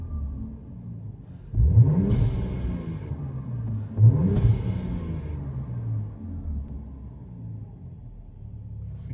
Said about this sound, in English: You hear that turbos.